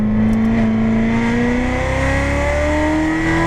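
A Chevrolet Corvette C7 Z06 accelerates on a race track, its engine note rising steadily in pitch as it pulls through a gear, loud and close from inside the car.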